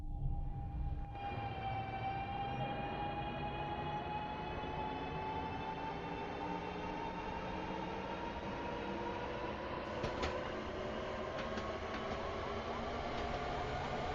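A train accelerates steadily on rails in Train Sim World 6, its rising electric whine and rumbling wheels continuous and close throughout, with a few faint clicks near the end.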